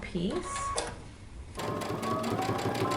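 A sewing machine stitches two drawstring pieces end to end for a jumpsuit, its steady mechanical whirr running close under a woman's speech before continuing alone with rhythmic needle clatter.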